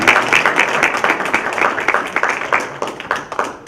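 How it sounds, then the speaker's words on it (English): Applause at a judicial candidate forum in Fairburn, a room full of people clapping for the candidates in a dense, steady patter of individual claps over a few seconds. "Let's give all our candidates a round of applause for being here"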